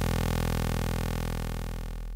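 A Serum synth sub bass pitched two octaves down, for melodic drum and bass, drones as one steady low tone that holds and fades slightly over two seconds, with no talking.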